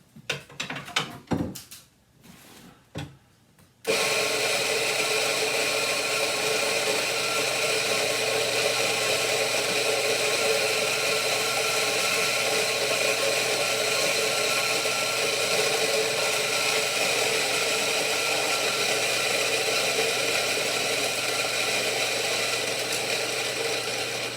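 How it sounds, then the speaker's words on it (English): Electric coffee grinder working through 40 grams of coffee for a Chemex brew: a brief clatter, then a loud, steady whirring grind that runs unbroken to the end. "40 grams of coffee here, 40 grams. So we're gonna go ahead and grind that"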